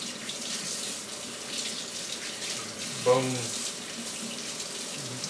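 Tap water runs steadily into a sink while a pork roast is rinsed under it, a constant splashing hiss with a brief voice spoken partway through.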